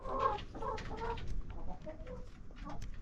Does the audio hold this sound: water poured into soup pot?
no